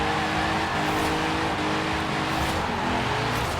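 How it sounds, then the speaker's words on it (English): V8 engine of a Mercury Cougar Eliminator muscle car in Forza Horizon 4, a constant loud rumbling drone with shifting engine tones, close and unbroken. "why we got the world's most generic V8 in here?"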